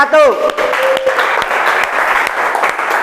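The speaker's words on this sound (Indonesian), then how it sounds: "tepuk tangan sekali lagi buat kelompok" Sustained applause from a university class audience fills the clip, dense and steady, with a brief voice and whistle-like tone near the start.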